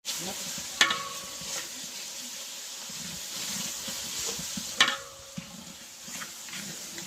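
Garlic frying for village-style mutton curry on a wood-fired clay stove, heard as a faint continuous sizzle with a couple of sharper clinks and stirring scrapes.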